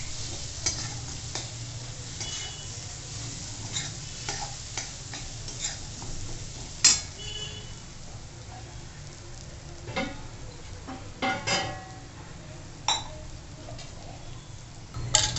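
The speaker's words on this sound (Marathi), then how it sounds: "चांगलं परतवून घेऊ आपण" Pumpkin sizzles gently in a pan while a utensil stirs and scrapes, with occasional louder clicks against the pan over a steady low hiss.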